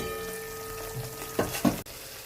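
Spice paste frying in oil over a low flame, a soft steady sizzle with a couple of brief louder stirring scrapes near the end.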